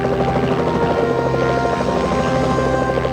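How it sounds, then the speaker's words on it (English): A rescue helicopter hovering over icy river water at an airliner crash scene, its loud continuous rotor thump and engine drone filling the whole moment without letup. "After dropping off Felch, the chopper crew turns its attention to the 6th person in the water"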